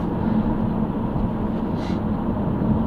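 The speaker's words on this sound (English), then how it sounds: "It's a little bit noisy, I can hear the tyres through the car," Tyre road noise inside a 2005 Vauxhall Vectra SRI while driving, a steady low rumble and broadband roar heard from the cabin, continuous and even throughout.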